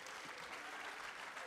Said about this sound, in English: Let's give Lachey a big round of applause too.